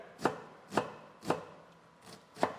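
Five crisp knife strokes chop through an onion on a cutting board, evenly spaced about half a second apart, close and clear with no talking.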